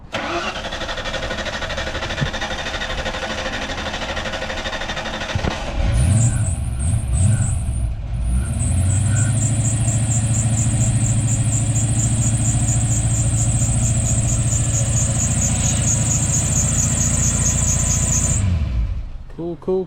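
A barn-find Ford Fox Body Mustang with a new fuel pump cranks, catches and settles into a loud, steady idle close by, with a high whining squeal running above the engine drone until it shuts off.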